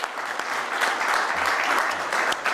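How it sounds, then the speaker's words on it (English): A live audience gives a sustained round of applause at the close of a Green Growth program, dense clapping filling the room steadily with no voices over it. "We're going to give her a round of applause"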